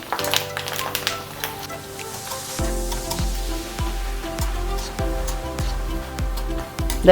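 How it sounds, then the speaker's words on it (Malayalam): Dried okra papad deep frying in hot oil gives a steady close sizzle and crackle, with a run of sharp, regularly spaced clatters from stirring partway through. No one speaks. "നമ്മുടെ വെണ്ടയ്ക്ക് കൊണ്ടാട്ടം എങ്ങനെ വറുക്കുന്നതും കൂടി കാണിച്ചു തരാതാ"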